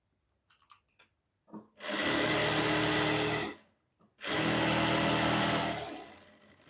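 A sewing machine stitches Afghani salwar fabric in two long steady runs of motorised whirring, close and fairly loud, separated by a short pause with a few small handling clicks before the first run.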